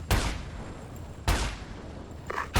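Gunfire in the video game Ghost Recon Advanced Warfighter 2: two loud, sharp shots about a second apart, each followed by a rumbling decay, then a quicker burst of shots near the end.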